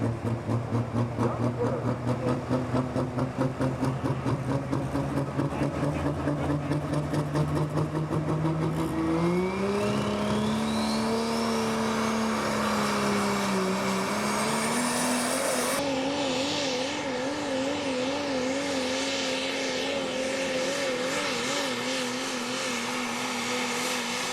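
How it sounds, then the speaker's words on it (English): A loud diesel engine of a pulling truck at a truck and tractor pull roars steadily, its pitch climbing as it strains down the track, with a sharp shift in tone partway through and no voices. "that truck was just flying out through there"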